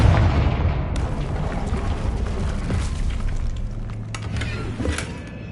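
Confringo blasting spell from Hogwarts Legacy, heavy booming blasts and scattered impacts rolling under a dense, rumbling game mix, fairly loud and sustained with a few sharp cracks.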